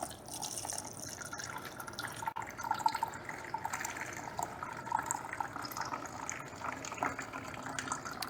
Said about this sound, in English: Let's strain some plum juice.